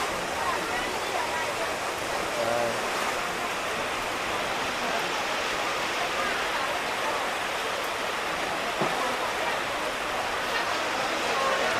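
Heavy rain pours steadily over the Lùng Phình ethnic market, a dense, unbroken hiss that fills the scene at close range with no letup.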